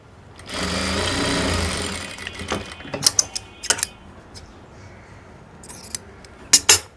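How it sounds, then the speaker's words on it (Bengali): A sewing machine runs a top stitch along trousers in one steady whirring burst lasting over a second. Scattered sharp clicks and taps from handling the fabric and machine follow, with no voices. "আমি এখন একটা চাপ সেলাই দিয়ে নিচ্ছি।"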